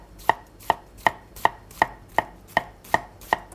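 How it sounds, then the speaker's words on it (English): Knife dicing an onion on a cutting board, nine crisp, evenly spaced chops in a steady rhythm, close and clear with no speech. "And then you just gently start dicing."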